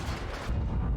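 Object 703 version 2 tank in World of Tanks firing both guns at once: a heavy, close cannon boom that swells halfway through and rumbles low to the end.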